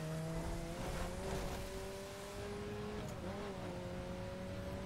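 A Mazda MX-5 Circuit Spec accelerates in the racing game The Crew, its engine droning in a steady rising whine with tonal harmonics, a brief dip near the middle before climbing again, close and continuous.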